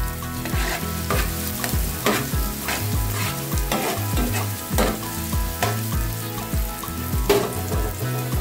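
Sliced onions sizzle in hot oil over a high flame for street-style gobi fried rice, with a spatula scraping and stirring the pan in repeated rhythmic strokes, loud and close.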